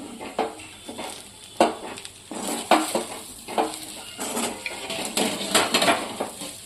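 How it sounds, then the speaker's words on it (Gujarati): Sweet-sour fried rotlo, a millet flatbread, is mixed in a pan with repeated rhythmic scraping and clanking of a spoon on metal over a faint sizzle, close and busy throughout. "હવે આ બધી વસ્તુ આપણે મિક્સ કરી લઈશું"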